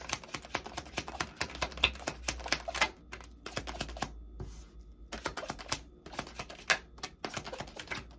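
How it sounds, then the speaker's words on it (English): Tarot cards are taken out and handled in a dense run of quick, crisp papery clicks and flicks, close and steady, broken by a couple of short pauses, with no one speaking. "I'll get the cards out first"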